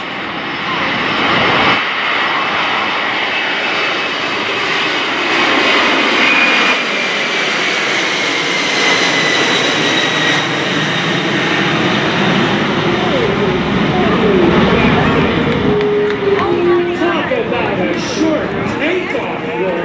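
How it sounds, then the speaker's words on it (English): Lockheed C-5M Super Galaxy jet engines roar through a takeoff roll at a West Virginia airshow, a loud, sustained broadband rumble with rising whine that holds steady for the whole stretch, with crowd noise and talk faintly beneath. "Those C-5M engines, they pack a wallop."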